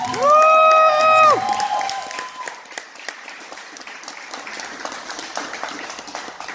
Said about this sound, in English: let's do a quick round of applause for everybody who's been nominated